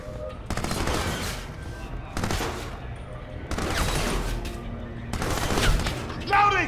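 Bursts of automatic gunfire in the Crysis Traitor mod, four loud sustained volleys separated by short pauses, with shouted soldier voices mixed in.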